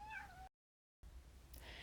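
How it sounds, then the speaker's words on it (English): A pet cat meows for attention, a short, faint call at the start before a gap, followed by low room noise. "Sorry if you can hear that over there. That's one of my cats. She wants my attention."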